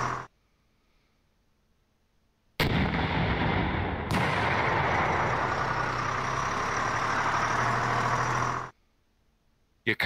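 Artillery fire from a Panzer Battles North Africa wargame arrives as a sudden loud blast, followed a moment later by a second sustained booming roar. The sound stays dense for several seconds and then cuts off into near silence.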